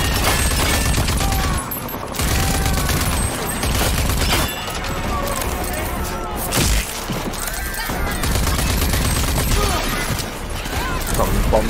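Rage 2 video game combat: dense rapid gunfire and booming explosions fill the mix at high volume, continuous bursts with brief dips, a voice faintly in the mix.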